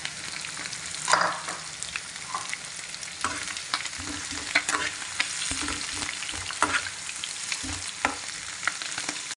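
Potatoes and carrots fry in hot oil in a pan for a cabbage and chicken dish, giving a steady, close sizzle with scraping and stirring knocks throughout.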